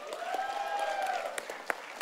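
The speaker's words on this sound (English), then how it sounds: "let's have a round of applause for Excali and Hunter here." An audience at an esports tournament final applauds with steady clapping, mixed with a drawn-out vocal tone and a few sharper claps near the end.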